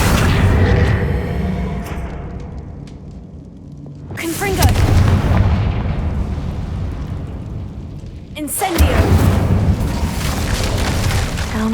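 Confringo fire spells explode in Hogwarts Legacy with heavy, booming blasts: one at the start, then two more sudden loud detonations a few seconds apart, each rumbling and decaying slowly.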